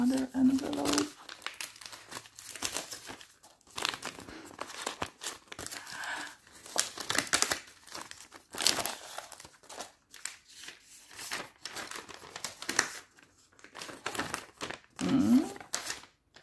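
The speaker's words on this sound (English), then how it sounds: "This is the envelope and another envelope." Paper envelopes from a box of letters crinkle and rustle up close in bursts of soft crackling, with quiet pauses between handlings and a few brief voice sounds.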